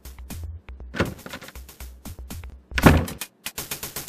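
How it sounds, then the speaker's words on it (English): A door knob is turned and a door swings open in the Police Quest 4 video game, shown as a series of clicks, thunks and rattles with a louder burst near the middle, alone and close. "You turn the knob and open the door"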